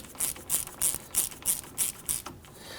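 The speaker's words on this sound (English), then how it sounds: "Go ahead and run that bolt down." A ratchet clicks in short, loud bursts, about seven quick strokes in a steady rhythm, as it runs down a rear suspension knuckle bolt on a 2005-2010 Chrysler 300, close up with no talking.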